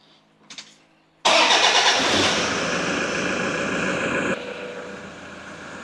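Toyota Hilux engine starting after steering rack replacement, a short crank followed by a sudden loud catch that settles into a steady idle, which drops slightly in level near the end.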